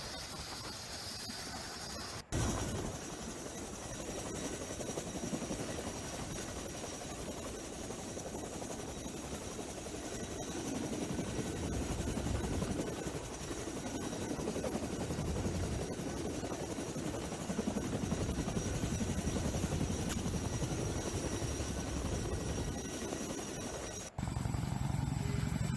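An army Chinook helicopter drones steadily in an extended stretch, its heavy rotor beat swelling and fading slightly at moderate distance, with no speech over it.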